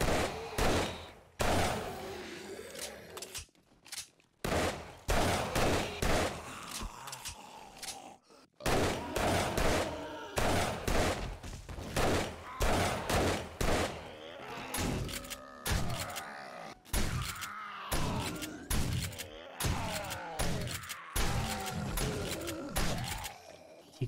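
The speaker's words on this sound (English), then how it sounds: "I have 500 shotgun shells to do it with if I need to" Repeated booming shotgun blasts in the survival game 7 Days To Die, fired in quick irregular bursts over a long stretch, loud and close, with thuds and echoing tails between shots.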